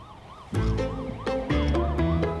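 An ambulance siren wails close and loud in a Ukrainian comedy series, its warbling tone cycling rapidly over a low engine rumble, with no talking.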